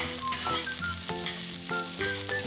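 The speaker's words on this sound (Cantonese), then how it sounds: "同埋葱爆香，" Julienned ginger, sliced garlic and scallion sizzle hard in smoking-hot oil in a pan: a short, dense, close hiss that sits under a steady musical background.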